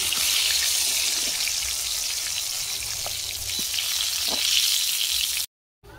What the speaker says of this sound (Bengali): আলু ভাজার তেলে ফুলকপি ভেজে নেব